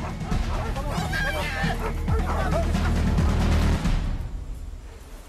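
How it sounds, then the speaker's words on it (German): Several dogs bark and yip amid the loud, chaotic shouting of men in a tense outdoor scene, with barks and voices overlapping continuously before the din drops off toward the end. "Die Hunde bellen und die Männer schreien wild durcheinander."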